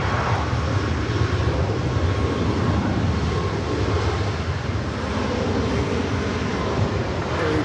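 An airliner takes off from runway 24 Left at LAX, a loud, sustained broadband engine roar that holds steady throughout.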